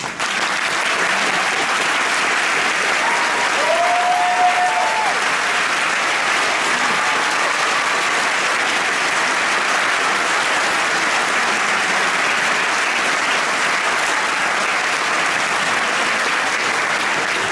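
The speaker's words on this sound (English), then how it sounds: "everyone give them a big round of applause" Long, steady applause from an audience at a school honors band concert, many hands clapping in a thick, even roar that continues without a break for the whole stretch.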